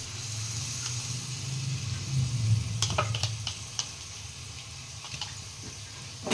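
A spoon stirs chili powder and thick curd into chicken for dum biryani, giving a steady wet scraping and sizzling texture with a few sharp clinks of the utensil against the pot.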